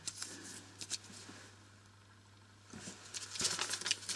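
Handmade reproduction cigarette papers rustle and crinkle as they are handled, with soft papery scratching in short bursts that rise and thicken toward the end.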